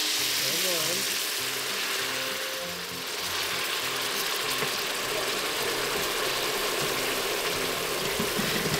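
Sizzling pan being deglazed while cooking stroganoff, a steady hiss and bubbling with scraping, under a person talking near the start.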